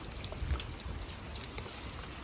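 Rain falls outdoors over a garden, pattering onto a phone held out in it. The hiss is steady and broadband, with soft patters and a few close drops, and no voices.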